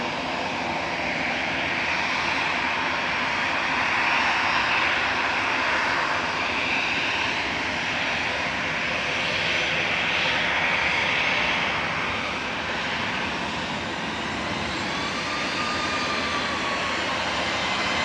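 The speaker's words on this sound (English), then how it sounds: "GEZRT departing in front of us, flight 2061 to Corfu" Airliner G-EZRT, flight 2061 to Corfu, departs from Manchester Airport with a loud, continuous jet engine roar that swells and holds steady, with no voices.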